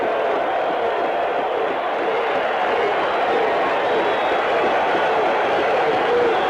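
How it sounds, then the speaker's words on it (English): A baseball stadium crowd roars with excitement after a pitch, a dense, sustained wash of cheering and whooping that stays loud and unbroken from start to finish. "Roach has the crowd excited"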